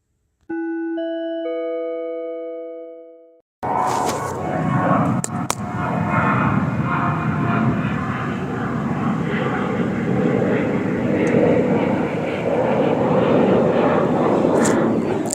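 Commercial plane flying overhead makes a steady, broad engine roar that holds loud and constant for about twelve seconds after a brief electronic chime tone at the start.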